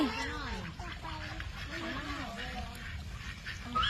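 Ducks quack repeatedly while splashing and playing in water in a village setting, a string of nasal calls over steady outdoor background noise, with voices talking alongside.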